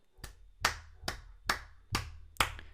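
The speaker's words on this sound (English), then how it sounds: "That was a terrible clap" One person clapping alone, six sharp separate claps at a slightly uneven pace, close and fairly quiet, with short room decay after each clap and no talking.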